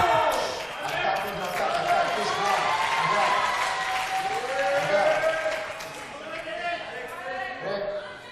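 Spectators at a Singapore versus England fencing final murmur, call out and applaud in a steady, echoing wash of crowd noise while a commentator talks over it.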